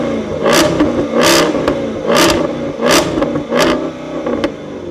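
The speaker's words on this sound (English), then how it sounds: "listen to just the sound of this car if we rev it" A 20-year-old V8 car engine revs in repeated loud bursts, rising and falling about five times with deep throaty rumble between, close up, no talking.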